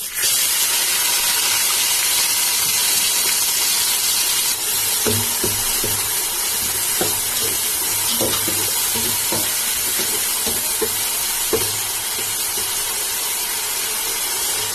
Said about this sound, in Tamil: நல்லா வதக்கிட்டு மூடி வச்சிருங்க